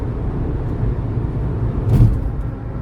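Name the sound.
road noise inside a driving car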